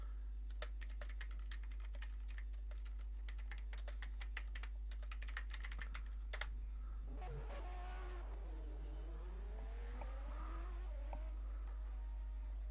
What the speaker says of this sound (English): I'm just typing in the chat now.